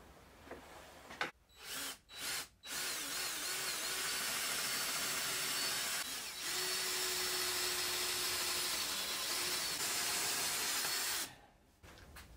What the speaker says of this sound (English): So we're going to start drilling these three out and go from there.